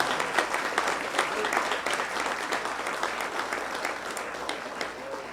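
A church congregation applauds together during a Lord's Supper service, steady dense clapping that fills the room at an even level throughout, with a few louder claps standing out.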